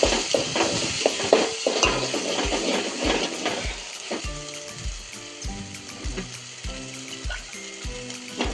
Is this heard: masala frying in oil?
yes